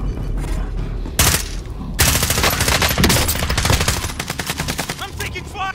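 Rapid machine-gun fire strikes the player in Call of Duty Warzone, with loud, close bursts of dense automatic shots and impact cracks. Brief pauses separate several heavy volleys, and faint radio chatter sits underneath.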